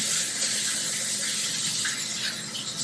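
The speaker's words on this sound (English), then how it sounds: "I'm going to rinse my hands really quickly." Hands are rinsed under a running kitchen tap, a steady hiss of flowing water with a faint splash, brief and continuous.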